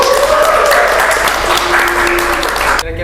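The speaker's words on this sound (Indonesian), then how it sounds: "Tepuk tangan dulu dong buat Pak Dipi" Audience applause for a guest on an Indonesian podcast: a dense, steady wash of clapping that holds loud for about three seconds, then stops abruptly, with a faint tone running underneath.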